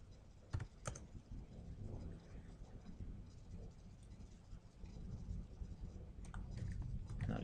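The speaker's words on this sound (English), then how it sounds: "I'll just type this out to make it a bit quicker." Typing on a computer keyboard while entering code in Adobe Flash Builder, a quiet, steady patter of key clicks with a few sharper taps, close but soft.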